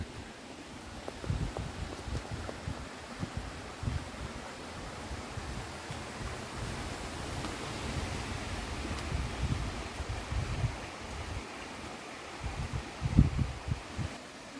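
Steady broadband rushing of a small stream flowing downhill at the upper Fluxfallet waterfall in Sweden, continuous and close, with faint rustling and occasional low thumps, no talk.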